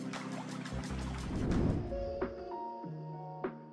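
Water from an automated irrigation system, a pouring and trickling flow that swells in the middle then eases, with a couple of sharp drips and faint sustained tones toward the end.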